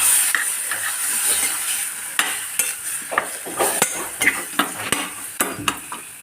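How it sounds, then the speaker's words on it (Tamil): Mutton bones are sautéed in a pan for a village-style mutton curry, with a steady frying sizzle broken by sharp, repeated clacks of a spoon stirring and scraping against the metal, growing more frequent toward the end. "எலும்பை போட்டு நல்லா வதக்கிட்டு"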